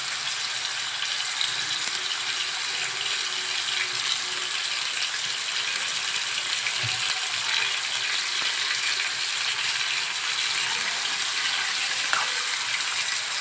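Chicken hearts fry in oil in a pan, a loud, continuous close sizzle with small pops and crackles throughout.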